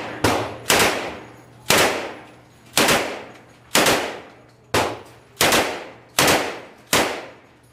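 A 1944 .45 caliber Thompson machine gun fires outdoors in about nine loud, sharp shots spaced roughly evenly apart, each a hard crack with a trailing echo.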